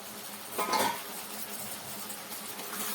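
A metal lid is set onto a pot of cooking bottle gourd curry, giving a short clattering clink over a quiet kitchen background, with no one speaking.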